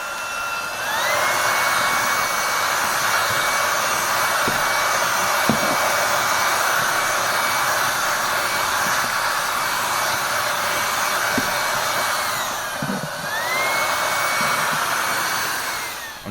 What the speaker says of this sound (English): if all the side steps need a good hoover